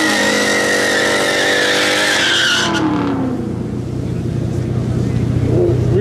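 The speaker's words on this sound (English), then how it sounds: "We racing this G37" An Infiniti G37 races down a drag strip, its loud engine howl climbing through gears with a shift, then receding as the car pulls away while another engine drones nearby.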